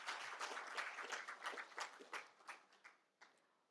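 Conference audience applause at a circular packaging event, a faint, distant patter of many hands clapping that thins out and fades to a few last claps.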